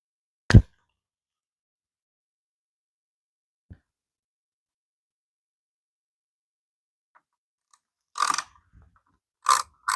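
A ratchet tightens a screw with a lock ring washer on a 2014-2024 Harley Touring motorcycle. A sharp click comes first, then a long quiet gap, then short bursts of close ratcheting near the end.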